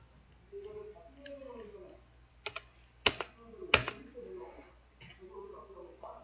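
Keys clack on a computer keyboard during CAD modelling work, with light scattered taps and two sharper, louder presses like the enter key, heard quietly and close up while a person speaks.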